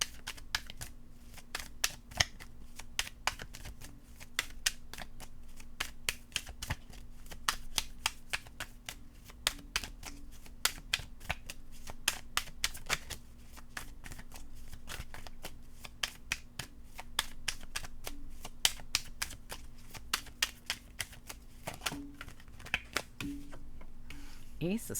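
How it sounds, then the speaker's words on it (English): Tarot cards shuffled repeatedly by hand, a long run of crisp rapid riffling clicks and snaps with occasional louder flicks, with a voice speaking intermittently over them. "One more shuffle."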